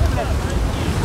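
Sea waves wash onto an Azov Sea beach at Golubitskaya in a brief, loud rush, blended with heavy wind buffeting the microphone.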